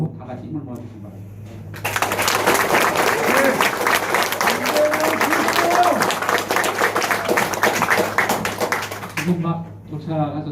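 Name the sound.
party members applauding to welcome the governor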